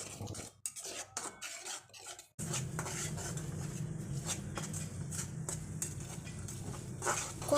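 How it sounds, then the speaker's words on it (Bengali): A spoon scrapes and clinks against a pan while spiced masala with a little water is stirred down for pangas fish, with quick metallic taps followed by a steady low bubbling sizzle and repeated stirring strokes. "এবার সামান্য পানি দিয়ে ভালোভাবে কষিয়ে নিব।"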